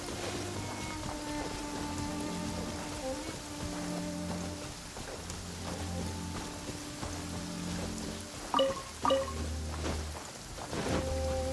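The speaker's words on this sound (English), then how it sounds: "Taking a stroll in the middle of a downpour certainly rouses the spirit." A steady downpour hisses in the video game Genshin Impact, a continuous rain bed under tonal game music, with a few brief louder knocks near the end.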